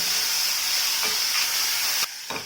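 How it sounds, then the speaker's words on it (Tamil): Sliced onions with salt sauté in a hot pan, giving a steady loud sizzle and hiss close by, briefly broken by a couple of stirring scrapes before the frying sound drops away near the end. "கொஞ்சமாக வெங்காயத்துக்கு தகுந்தாப்புல உப்பும் சேர்த்தாச்சு. நல்லா அது வதங்கட்டும்."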